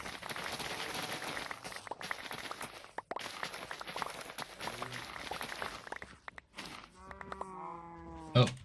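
Cows in the Minecraft survival game: footsteps and shuffling game noise run for several seconds, then a cow's drawn-out, wavering moo sounds close and clear near the end.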